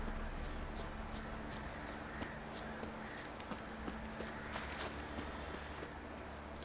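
Horse hooves clip-clop in The Witcher 3 video game, a faint, regular beat of hoofsteps at walking pace over a low ambient bed.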